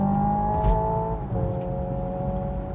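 A Hyundai Ioniq 5 N electric car in sport mode plays simulated automatic gear shifts, a steady synthetic engine drone heard from the cabin whose pitch steps down once at a shift, with no talking.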